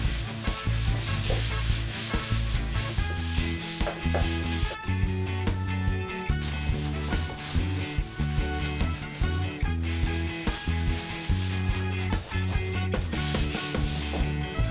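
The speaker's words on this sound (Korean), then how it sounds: "적당량의 오일을 나무 표면에 덜어준 후 마사지하듯 고르게 문질러 줍니다." Oil massaged by hand into the wooden surface of a monitor stand using vinyl gloves: a close, steady rubbing and swishing with a regular back-and-forth stroke rhythm, without any voices.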